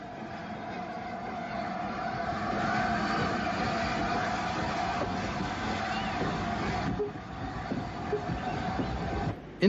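A Southern Railway R1 class 0-6-0 tank locomotive drifts down toward a harbour, hauling luggage vans ahead of a boat train. It makes a steady, continuous rumble and clatter of rolling wagons that stays fairly even throughout, ending in a brief sharp knock.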